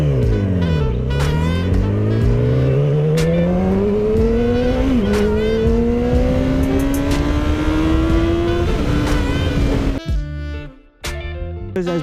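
A Yamaha R6 sport bike is ridden on the road, its high-revving engine climbing in pitch through the gears with brief dips at shifts, loud and close, then briefly easing off near the end.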